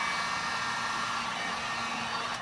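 Heat gun on low setting warming vinyl headliner glue on a Triumph TR6 hardtop, a steady close blowing whoosh running unbroken throughout.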